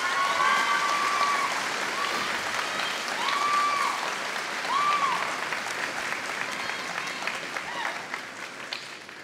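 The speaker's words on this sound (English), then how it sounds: "Can you give her a huge round of applause" Sustained audience applause at a school graduation ceremony, dense and steady for several seconds before gradually tapering, with a few whistles rising briefly above the clapping.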